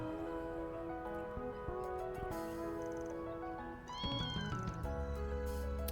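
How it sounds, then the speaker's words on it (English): A cat gives a short meow, faint and partly buried under game music with tonal melody lines playing throughout. "Little kitty cat. You good?"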